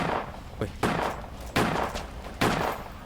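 Four sharp pistol shots ring out at roughly even intervals in the Roblox game Edward the Man-Eating Train, each one a loud crack with a short decaying tail.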